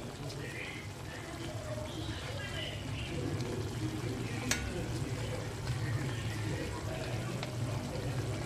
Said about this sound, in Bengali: দেখুন বন্ধুরা ঝোলটা পুরো ফুটে গেছে।